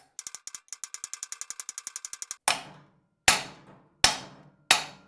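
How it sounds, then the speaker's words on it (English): Rapid light metallic taps in a quick series, then four heavy, ringing hammer blows spaced apart as a steering bearing race on a Yamaha YZ250 is driven in; the later strikes sound solid and dull once it bottoms out. "there's a clear difference in sound once the race bottoms out"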